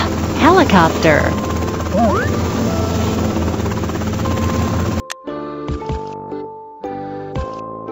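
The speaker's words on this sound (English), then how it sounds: "Helicopter." A helicopter's steady whirring drone fills the first five seconds, loud and close, then gives way to tinkling, chiming toy-like tones.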